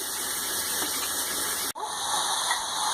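Water gushes steadily into an open pan of spiced tomato rice with fenugreek leaves, a continuous hissing pour that cuts off abruptly and then resumes.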